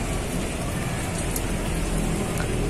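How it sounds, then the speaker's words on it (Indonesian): Light drizzle falls outdoors under an overcast sky near garden plants, making a steady, even patter of rain throughout with no voices. "Kebetulan di sini lagi mendung ya, gerimis, cuaca lagi tidak mendukung."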